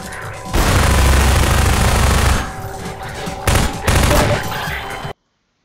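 Loud shotgun blasts and heavy gunfire in the video game Half-Life 2, with a dense roaring stretch followed by further sharp bursts before cutting to silence.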